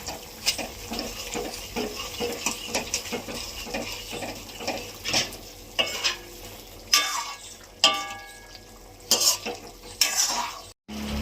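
A spoon scrapes and knocks repeatedly in a pot as mustard, chilli and cumin paste is stirred into a simmering fish curry with banana and potato, irregular close clatters over a soft bubbling sizzle, no talk.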